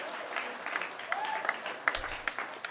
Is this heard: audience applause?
yes